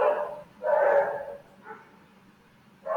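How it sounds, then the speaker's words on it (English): Dogs bark nearby, a few separate woofs with gaps between them, moderately loud against a quiet background. "dogs are disturbing a lot"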